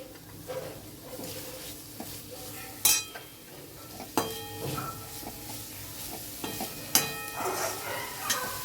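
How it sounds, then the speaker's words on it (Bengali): Carrot, bell pepper and tomato sizzle quietly in a pan while a spatula scrapes and clinks against the metal at irregular intervals, with a few sharper knocks. "সবগুলো জিনিস দিয়ে এবার ভালো করে ভেজে নিচ্ছি।"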